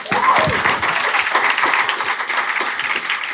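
Enthusiastic applause at a Pechakucha presentation night in Bermuda, loud and continuous with many hands clapping close together and a faint murmur of voices underneath.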